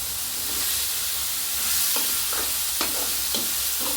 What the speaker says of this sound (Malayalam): നന്നായി മൂക്കട്ടെ.